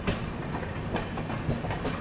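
Kushinagar Superfast Express, running from Gorakhpur toward LTT, at a station with a steady close rumble of rolling railcars and faint clickety-clack of wheels, no voices.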